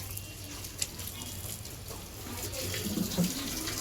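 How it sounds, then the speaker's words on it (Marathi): A tap runs water for washing a car, a faint, steady hiss of flowing water with a low motor hum beneath it, continuous and fairly quiet. "गाडी धुवायचं पाणी आलेलं आहे"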